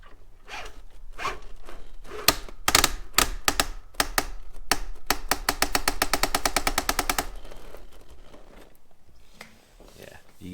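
Axial SCX10.3 RC crawler with a straight-axle Jeep build and a slipping transmission, giving rapid, loud mechanical clicking and ratcheting bursts that speed up into a fast buzzing rattle before fading into quieter motor whine.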